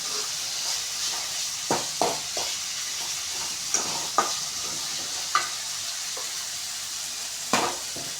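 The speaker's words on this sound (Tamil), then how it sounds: "போட்டுட்டு நல்லா வதக்கிக்கலாம்." Grated carrot sautéing in a pan for egg fried rice, a steady close frying sizzle with several sharp scrapes and clicks of a spatula stirring at irregular intervals, no voices.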